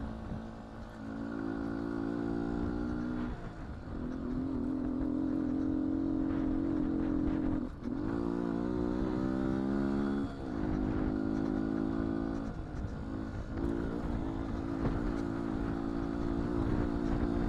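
A 2019 Beta 125 RR-S two-stroke dirt bike engine runs nearby, its buzzy tone rising and falling through repeated throttle blips and short dips over about seventeen seconds, with no voices.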